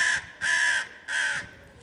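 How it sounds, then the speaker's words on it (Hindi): A cartoon crow caws three times in a steady rhythm, each harsh call loud and close with short pauses between. "कौवा काव काव करता रहा"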